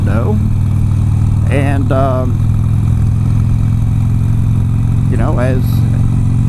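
Harley-Davidson motorcycle engine while riding, a loud, steady low rumble running throughout, close up, with a person talking over it in short stretches.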